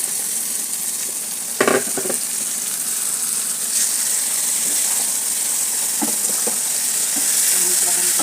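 Garlic and onion frying in a pan: constant loud hiss of hot oil with a few knocks and stirring clatters, steady and close.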